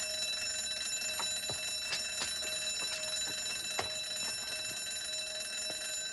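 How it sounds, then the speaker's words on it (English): A newly installed burglar alarm keeps ringing after being switched off, a steady high electronic ring with irregular sharp clicks and knocks over it, heard indoors at moderate volume and unbroken throughout. "The boss is trying to install a new burglar alarm, but it's got a mind of its own. It won't stop."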